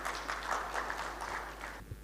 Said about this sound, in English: Let's welcome Mr. Bedi with a huge round of applause